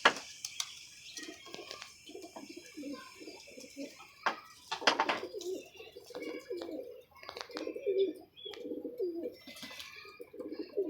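Domestic pigeons kept in pairs for sale coo repeatedly, close by, in soft, rolling low calls that overlap one another through the whole stretch.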